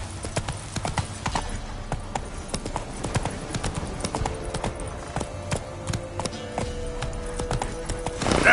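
Roach, the horse in The Witcher 3: Blood and Wine, gallops along with a quick, steady clip-clop of hooves, close and continuous, with a brief whinny-like tone partway through.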